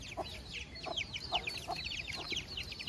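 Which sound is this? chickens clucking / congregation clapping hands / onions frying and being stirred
chickens clucking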